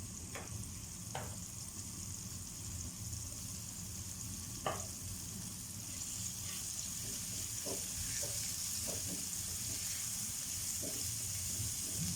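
Garlic sizzling in three tablespoons of hot oil, a steady close frying hiss with a few soft stirring clicks and scrapes throughout, no voices.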